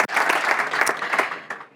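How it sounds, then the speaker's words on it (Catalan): Loud applause from the audience at the Sabors 2023 awards gala in Ibiza, a dense wash of clapping that fills the whole moment and then tapers off near the end. "Per favor, un fort aplaudiment."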